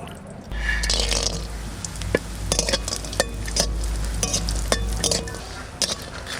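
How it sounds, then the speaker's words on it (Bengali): Lentil dumplings sizzle in oil in a kitchen pan, a continuous low hiss with sharp clinks and scrapes of a utensil against the pan scattered throughout, close and alone. "বড়ি ভাজার জন্য তেল দিচ্ছি"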